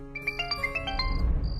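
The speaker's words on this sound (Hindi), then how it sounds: "तभी अचानक ही आहान का मोबाइल बज उठा" A mobile phone rings with a bright, rapid tonal melody, several quick chiming notes in a row, heard close and clear over a low background rumble.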